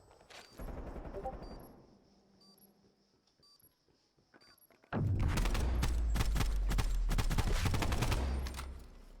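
Rapid SMG gunfire in a competitive video game match, a sustained loud burst of automatic shots filling the second half after quieter game sounds and electronic beeps, with no talk.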